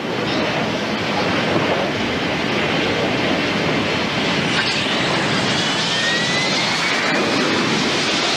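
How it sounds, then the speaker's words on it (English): Fighter jets launch from American aircraft carriers at sea, a loud, continuous broadband jet roar that holds steady from start to finish with no break or voice. "Aboard the 3 American aircraft carriers in the area, 144 fighter jets take to the air."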